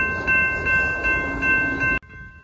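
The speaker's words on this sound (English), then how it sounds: "This is a freight train" A freight train rumbles past with a steady droning hum and faint rhythmic clacks, then the noise cuts off abruptly near the end.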